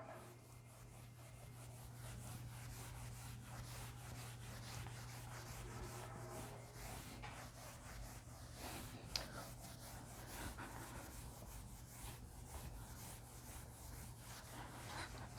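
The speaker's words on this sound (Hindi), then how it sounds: "एक बार मैं इसको रब कर देता हूं।" Quiet, continuous rubbing as a teacher erases writing on a board during a classroom lesson, a soft scratchy back-and-forth over a low steady hum, with no voices.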